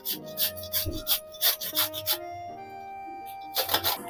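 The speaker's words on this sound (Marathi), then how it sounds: "आता आपण दुधी किसून घेऊया।" Peeled, seeded bottle gourd (dudhi) is grated by hand, making quick rhythmic rasping strokes, close and fairly quiet, in uneven bursts with brief pauses.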